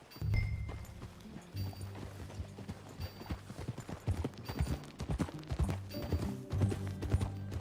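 Hooves of a horse in the video game Red Dead Redemption 2 clip-clop in a steady, uneven rhythm throughout, fairly faint and close, over a low rumbling background.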